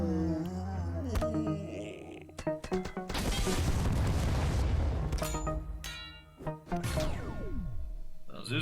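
Explosions from the Pirate Queen in the battle game TABS, a series of sharp booming blasts and crashes, one long rumbling burst in the middle, loud and close amid other battle effects.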